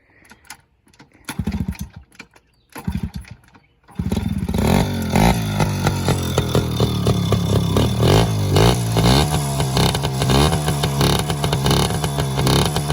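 A Yamaha PW50 dirt bike engine is pulled over with a few sputtering tries, then catches and runs on choke with a loud, steady, buzzing two-stroke idle and slight revving, close up and without voices.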